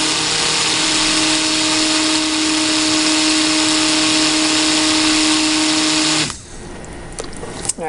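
An electric stick blender whirs steadily and loudly up close while mixing root beer cold process soap batter, then cuts off near the end, leaving faint clatter.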